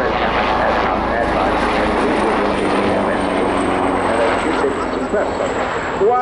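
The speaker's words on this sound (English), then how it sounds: "Once the survivor sees the helicopter approaching" A helicopter passes during the Royal International Air Tattoo 2023 air show, a loud continuous rotor and engine roar dominating throughout, with a voice talking over it.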